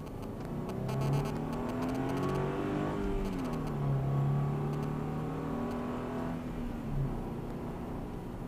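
A car speeding up on the road to get behind a camper, its engine hum climbing and easing in pitch in waves over steady road noise, with no talking.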